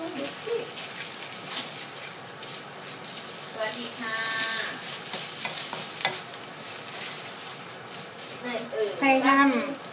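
Thai dried tuna chili paste being stir-fried in a pan, a low sizzle with scraping stirring strokes, while someone talks over it throughout.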